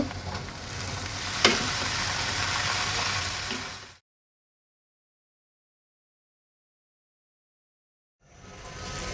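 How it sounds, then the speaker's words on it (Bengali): Potatoes fry with already fried onion in a pan for aloo bhaji. A close, steady sizzle with one sharp clack lasts about four seconds, then cuts to silence before the frying fades back in near the end. "পেঁয়াজটা ভাজা হয়ে গেছে। এখন আলু দিয়ে দিব।"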